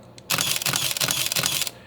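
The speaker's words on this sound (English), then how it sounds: "As long as you hold down the shutter button, the camera will keep taking photos." Rapid burst of shutter and film-advance clicks from a Minolta Maxxum 5 film camera firing continuously, about eight evenly paced mechanical cycles close to the microphone, with no talking.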